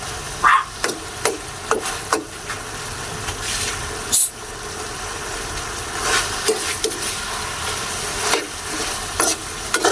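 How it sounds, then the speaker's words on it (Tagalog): Chicken simmering with Sprite in a pan is stirred with a utensil, giving irregular scraping knocks over a constant close sizzle. "So haluin lang po natin para hindi po siya magtutong."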